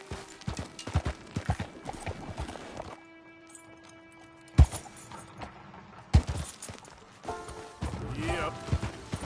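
Hoofbeats from a horse in the Red Dead video game clatter in uneven clip-clop bursts, mixed with scattered in-game noises and a steady tonal hum through the middle stretch.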